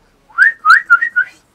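A person whistles a short, bright phrase of four or five quick notes with small pitch glides, loud and close, alone in a quiet room.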